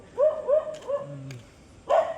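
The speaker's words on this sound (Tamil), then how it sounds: "எல்லாத்தையும் துரத்திக்கிட்டே குறைச்சிட்டு வருதுங்க." Local street dogs bark at night in India, a few sharp woofs in quick succession, a pause with a lower growl, then another bark, fairly close.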